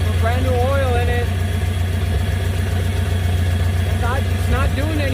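An old scrapyard car's engine idles steadily after a fresh rod bearing change and new oil, a loud, even low-pitched rumble close by, with a person talking over it.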